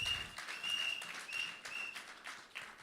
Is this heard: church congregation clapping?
yes